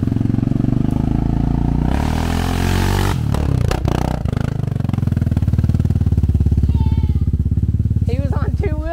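YCF 125cc pit bike engine revving hard during a ride up a steep hill, a loud continuous drone rising and falling in pitch with wind buffeting, people talking and shouting over it.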